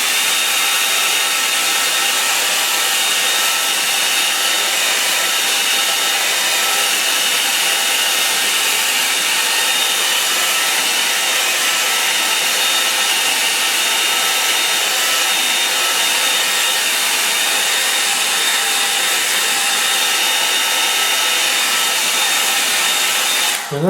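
A hair dryer blows steadily and loudly over a painting for the whole stretch, a constant broadband rushing whine with a faint high tone, running alone without talk until it cuts off at the very end.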